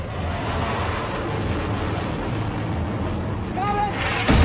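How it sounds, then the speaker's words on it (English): Incoming bombs exploding in a war movie battle scene: a dense, loud, continuous rumbling roar that swells toward a sharp blast at the very end. "Bombs inbound!"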